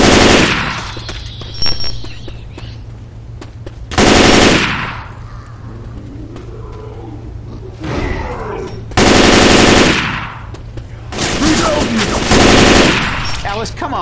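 Rifle fire in the zombie shooter Left 4 Dead 2 comes in loud, close automatic bursts of about a second each, separated by quieter gaps carrying a low steady hum and scattered game noise.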